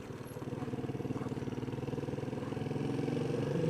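A motorcycle rides slowly over a rough, uneven unpaved track, its engine chugging in a steady low pulsing throb that holds close and even throughout.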